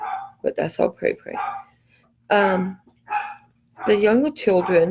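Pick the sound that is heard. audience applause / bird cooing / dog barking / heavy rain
dog barking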